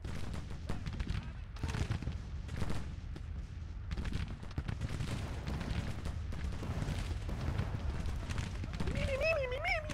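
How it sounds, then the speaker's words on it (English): Cannons fire solid shot in a Civil War video game's Union Army command battle at Martinsburg, a dense, steady barrage of booms and cracks layered with distant gunfire, while a voice talks over it. "No, they're firing solid shot."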